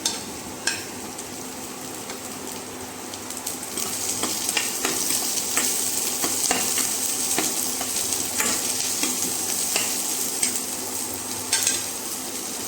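Onions and green chillies frying in a pan for masala dosa, a continuous close sizzle with crackling pops and occasional stirring scrapes, steady and fairly loud throughout, no voices.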